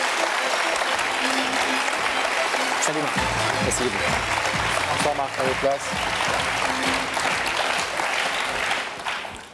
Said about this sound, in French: Sous applaudissements, parce qu'il faut l'encourager